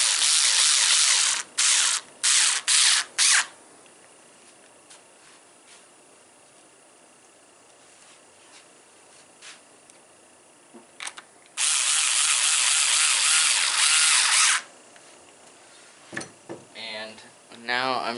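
A ratcheting driver screws the sway bar and lower link mount screw into an Axial Yeti RC 4x4 axle, clicking in several short bursts, then a longer three-second run, with quiet handling between and a voice near the end.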